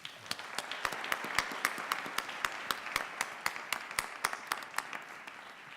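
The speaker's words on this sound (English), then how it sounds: "Let's give them a round of applause" A round of applause at a careers presentation on programming, digital media and advertising: faint, distant, steady clapping with sharp claps standing out at a regular pace.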